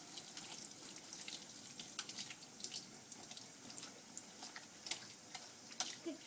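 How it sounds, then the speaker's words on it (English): Water runs steadily from a tap while a dog is wet down and rinsed, a continuous soft hiss with small splashes and drips, fairly faint and alone. "I need to make sure I get everywhere wet before I put shampoo on"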